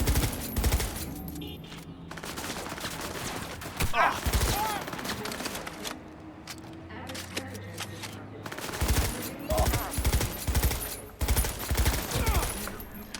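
Bursts of automatic gunfire in the video game Cyberpunk 2077, loud and sustained with a short lull midway, while someone talks over the shooting.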